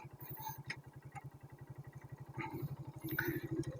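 A carbureted Suzuki Raider 150 motorcycle engine idling nearby, a quiet, steady low putter of regular firing pulses with a few faint clicks and rustles over it.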